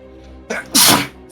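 A single sneeze during a tabletop D&D game session, a short inhaled build-up followed by a sharp, loud burst close to the microphone.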